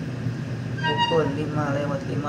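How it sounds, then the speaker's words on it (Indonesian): Madiun Jaya train departing Magetan station in the morning, a drawn-out horn tone rising above the low rumble of the engine and rail noise, with a voice talking over it. "5:55 kereta api Madiun Jaya berangkat dari stasiun Magetan."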